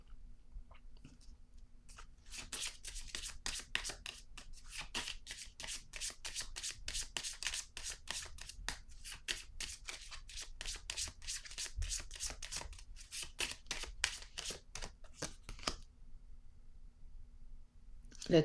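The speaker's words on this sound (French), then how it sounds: "Je vais piger une carte sur elle." Tarot cards are shuffled at length, with a dense run of soft, fast riffling flicks close by that continues for about fifteen seconds before fading out, over a faint steady hum.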